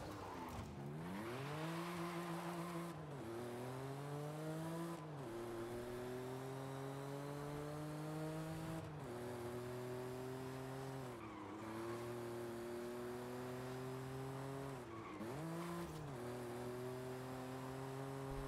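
A loud, raspy twin-turbo drift-build car engine in Forza Horizon 5 revs up and drops repeatedly, rising through the gears then cutting off, with several rev cycles over the stretch.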